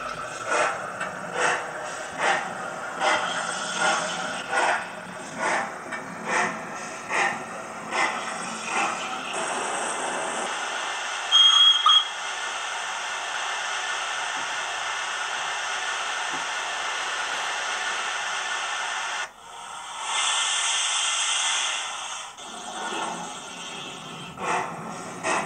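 A model railway locomotive fitted with an HM 7000 sound decoder runs on test, giving rhythmic chuffing bursts that give way to a steady hiss, then a brief pause and more hissing, all fairly close.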